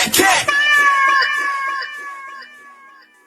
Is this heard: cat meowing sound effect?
yes